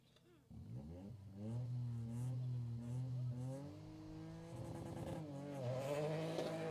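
Ford Fiesta R2J rally car starting its run at a rally shakedown in Le Touquet, engine revving up and holding high with rising and falling pitch, heard at moderate distance under a commentator's voice.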